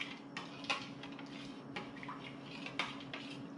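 A spoon stirs milk with about two teaspoons of white vinegar in a bowl, making a few light clinks and soft scraping sounds against a faint steady background hum.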